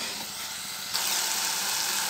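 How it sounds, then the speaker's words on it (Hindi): Onion, tomato, ginger and garlic fry in a pan with salt, giving a steady close hiss that grows louder and brighter partway through and then holds, with no voices. "थोड़ा भून लेंगे।"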